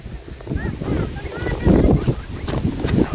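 Strong gusts of wind roar and buffet the microphone outdoors before a rainstorm, a loud, continuous rushing with surging peaks, and a person's voice is faintly mixed in.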